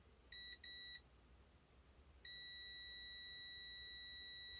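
A HaboTest HT118A digital multimeter gives its continuity beep: two short high-pitched tones in quick succession, then a pause, then a long sustained tone, clear and close against a quiet background.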